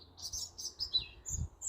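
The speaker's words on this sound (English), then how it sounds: "There's a very noisy bird up there somewhere." A bird calls from high up in a tree outdoors, giving a series of sharp, repeated chirps and tweets at a moderate distance, with short gaps between bursts.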